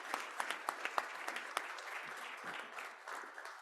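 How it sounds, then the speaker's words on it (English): An audience at a Kiwanis club meeting claps steadily, a dense roomful of hands with a few sharper claps near the start, sustained and then tapering slightly, with no talking over it. "Let's give her another round of applause."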